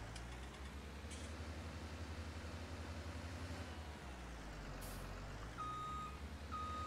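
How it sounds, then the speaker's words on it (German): Reversing beeps of a John Deere 6X20 tractor in Farming Simulator 19, sounding as a steady, quiet repeating tone over a constant low engine hum, with no talk. "Beim Rückwärtsfahren kommt die Piepse wieder."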